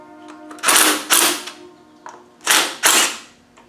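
Bolts being slackened off on a Land Rover Tdi engine with the belt still fitted, giving several loud, sharp cracking breaks in two pairs, close to the microphone, over a faint steady hum.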